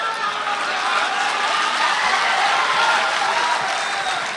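Steady applause from an audience at a Hindi kavi sammelan poetry gathering in a hall, a dense even wash of clapping filling the room without pause.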